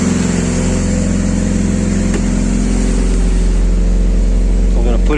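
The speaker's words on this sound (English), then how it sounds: "Oh, I gotta put it in reverse. There it is, it's spinning in reverse." A Mitsubishi Eclipse 2G runs in reverse with its wheels spinning, giving a loud, steady engine drone and whirring drivetrain close by, with talk over it.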